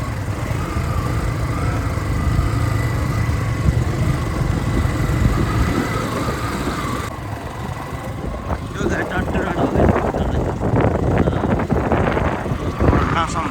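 A motorbike climbs a rough road toward a hilltop at about 35 speed, its engine droning steadily and close with wind buffeting the microphone, while a rider talks over the noise.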